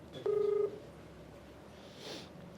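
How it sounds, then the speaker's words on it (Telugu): A single short telephone dialing tone sounds as a call is placed, a brief steady beep followed by quiet room noise. "ఒకసారి మీరు ఓకే అంటే కాల్ చేస్తాను."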